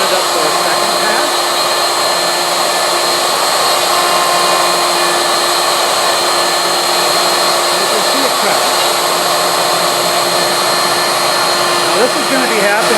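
CNC machine cutting a second pass on cabinet parts in a workshop, a loud continuous whirring spindle and dust-collection roar with a steady whine, unbroken for the whole stretch.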